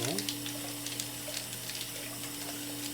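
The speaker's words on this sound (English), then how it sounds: "we want to wash this to get the excess starch off" Tap water runs steadily over rice being rinsed to remove excess starch for Spanish rice, a continuous faint splashing stream with a low steady hum beneath.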